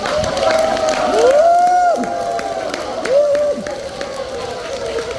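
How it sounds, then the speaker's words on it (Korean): An elderly audience at a senior welfare center singing class in Ulsan claps, whoops and shouts to welcome a trot guest singer. Rising voiced cheers ride over scattered clapping at close range, loud throughout. "큰 박수로 모셔보도록 하겠습니다."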